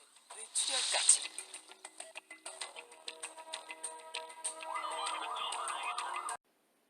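An ambulance siren wails in a fast, repeating up-and-down pattern, coming in late after a run of ticking clicks and a burst of noise, then cutting off abruptly.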